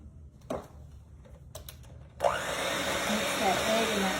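An electric mixer starts up and whirs steadily, blending egg and vanilla into peanut butter cookie batter after a few quiet clicks and taps; a close, continuous motor hum fills the second half.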